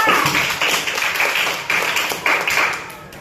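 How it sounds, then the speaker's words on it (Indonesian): Classroom students clap in short, uneven bursts, a group round of applause close by, fading toward the end. "kasih tepuk tangan untuk Talita"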